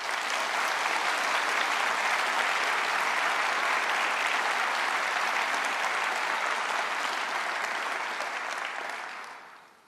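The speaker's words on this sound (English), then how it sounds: "they deserve a big round of applause" Sustained, loud applause from a large Conservative Party conference audience, a thick, even wash of clapping that holds steady for several seconds before fading away.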